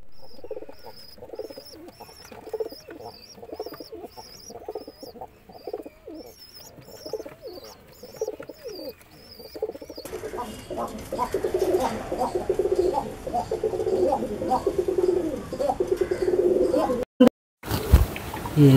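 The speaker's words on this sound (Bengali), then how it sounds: "দেখি পায়রা" Pigeons at a backyard pigeon flying competition give soft, repeated coos and bird calls throughout, with people talking nearby and a noisier outdoor stretch in the latter half.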